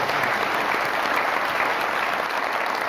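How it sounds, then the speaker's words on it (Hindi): Steady, loud applause from a studio audience at a Pakistani comedy show, a dense unbroken wash of clapping that fills the whole stretch without talk over it. "बहुत सारी तालियां मैं उनके लिए"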